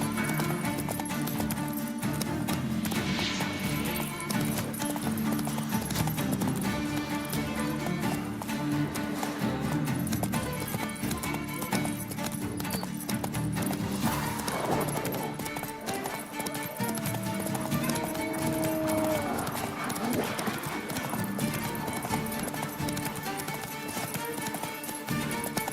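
Roach the horse gallops in The Witcher, hoofbeats drumming quickly and continuously beneath busy background music, with a brief whinny toward the latter part, loud and close throughout.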